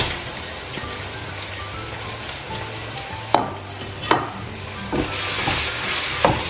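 Onion fried with green chili, ginger and garlic paste for a pork roast gives a continuous bright sizzle, broken by several sharp scraping stirs of the spatula against the pan.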